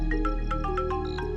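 A mobile phone rings with a repeating electronic melody of short pulsed tones, steady and fairly close, no voices over it.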